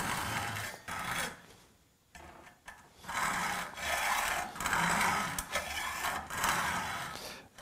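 A hand saw cuts back and forth through chrome-plated metal in a steady, regular rhythm. Each long rasping stroke is close and loud, with a short pause near the start and no talking.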